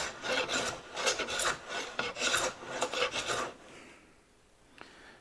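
An antique stop chamfer hand plane cuts highly figured wood in rapid, rasping strokes for about three seconds, then falls quiet apart from a single faint tap.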